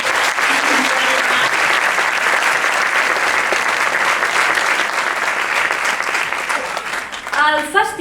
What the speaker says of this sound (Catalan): Uns aplaudiments, doncs, per a aquests dos protagonistes.